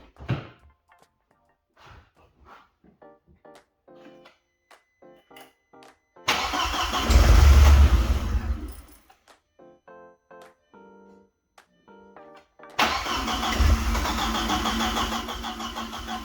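A car engine cranks and catches twice during a compression test, each time a loud burst of starter grinding into a running roar for several seconds, separated by quiet stretches with faint clicks and handling noises.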